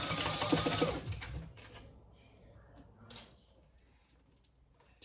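A sewing machine bastes bag pieces together in a brief rapid run of stitching, then stops, leaving quiet handling clicks and a short rustle.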